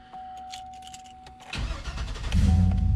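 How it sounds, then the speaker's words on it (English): A Chevy 2500HD pickup truck engine cranks and catches on a new XS Power battery, then rumbles into a loud, low idle after a second or so of starter whir. "Truck cranks up."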